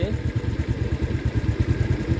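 Motorcycles rumble past on a street in Bener Meriah, Aceh, where power poles have toppled after heavy rain and strong wind. Their engines thud steadily and close, with voices talking underneath.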